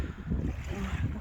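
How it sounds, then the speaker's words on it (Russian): Strong icy wind blowing at the seashore, a steady rough roar with microphone buffeting that rises and falls throughout, alone and close. "Ну, жуткий ветер ледяной."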